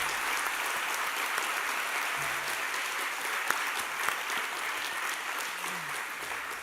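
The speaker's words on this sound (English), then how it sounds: "Please give him another huge round of applause" Applause for Earl Lovelace at a festival of words, stories and ideas marking his 90th, an even patter of many hands clapping, moderately faint and steady, with a few brief voices beneath.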